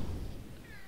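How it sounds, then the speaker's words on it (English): A house cat gives a short, faint meow for attention at close range indoors, sounding over a steady low background hum. "Sorry, my cat is demanding attention here."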